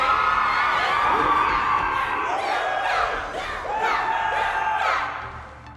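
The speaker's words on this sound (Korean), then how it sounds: "당신의 이름을 환호하고 있어요." A large crowd cheers and chants a name in rhythmic, surging waves in the game Honkai Star Rail. The sound is loud and dense, swelling and easing throughout.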